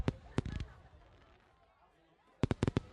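Two separate bursts of fireworks at a New Year's display, with sharp cracking pops at the start and again near the end, and a quieter stretch in between where a faint crowd murmurs.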